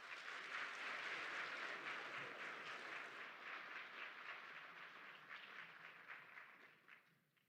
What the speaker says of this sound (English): Please join me in a well-deserved round of applause.